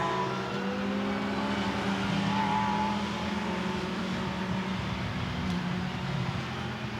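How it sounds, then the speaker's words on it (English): Lamborghini Super Trofeo race cars climbing uphill at Spa-Francorchamps, a steady moderate engine drone with layered revving tones, heard at some distance with no voices. "the cars now work their way uphill"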